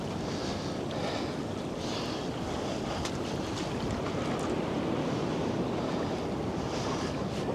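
Waves of an incoming tide break on a beach in a continuous loud roar and wash, with wind buffeting the microphone throughout and no voices.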